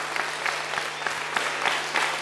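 Applause from an audience at an amateur theater comedy staged in a council hall, moderately distant and fairly thin, with individual claps standing out in a steady patter over a low electrical hum.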